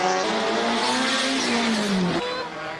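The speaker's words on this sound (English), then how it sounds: "Professional drifter as well, competing in a Subaru BRZ." Subaru BRZ drift car climbing a hill at a King of the Mountain speed event, its engine loud and close with a steady high note that slides and drops as it passes, tires squealing, then fading slightly at the end.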